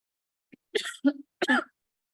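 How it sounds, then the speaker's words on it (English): A few short throat-clearing coughs from a lingering COVID cough, close and fairly quiet, with brief pauses between them and silence on either side. "My COVID cough has not left me yet"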